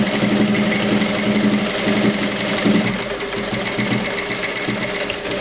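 A sewing machine runs a straight seam along the ribbed hem of a sweatshirt, a steady rapid mechanical chatter of the needle at close range, continuous with a short slowdown midway.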